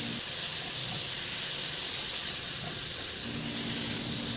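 Vegetables stir-fried with oyster sauce reducing in a pan, giving a steady close hiss and sizzle that runs unbroken without any voices.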